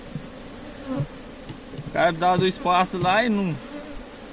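Bee swarm buzzing near a hive after being relocated, heard as bright harmonic drones rising and falling through the middle of the clip, with quieter buzzing before and after and a voice speaking faintly underneath.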